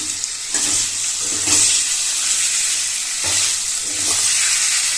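Marinated chicken fried with reddish-browned onions in a pan, a steady loud sizzle broken by recurring scrapes and stirs, no voices.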